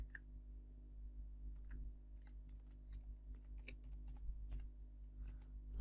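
Typing on a computer keyboard while editing a WordPress website button, with scattered soft key clicks in an irregular rhythm over a steady low hum, close and fairly quiet.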